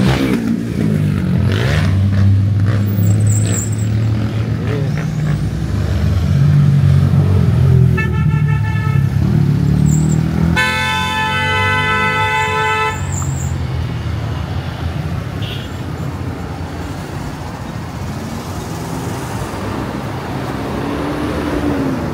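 Steady road traffic on a Kingston, Jamaica street near Manning's Hill Road, with cars passing and engines rumbling loud and close, plus a few short horn toots and one longer honk in the middle.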